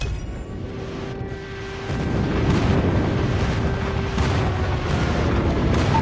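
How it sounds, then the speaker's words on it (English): Friendly airstrike explosions in the mobile video game Call of Duty, a dense rumbling barrage of booms that swells louder partway through and keeps rolling without a clear break, with no talking. "Friendly airstrike incoming."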